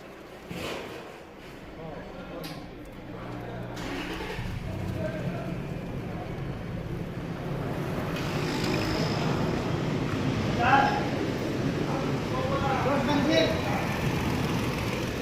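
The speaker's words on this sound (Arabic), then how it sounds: "الآن نشغل الموتور." A 2009 Toyota Land Cruiser with a V6 1GR engine and an exhaust leak starts up and settles into a steady idle, the rumble growing fuller and louder partway through while someone talks nearby.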